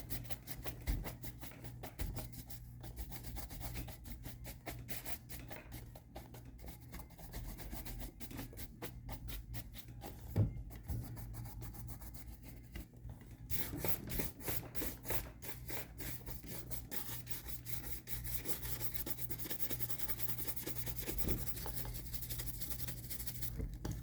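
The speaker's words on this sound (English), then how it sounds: "Saw some lines in the finish there, so I went to rub them smooth." A hand rubs a metal finish smooth while polishing toward a mirror shine, a steady close scrubbing rasp in quick back-and-forth strokes over a low constant hum.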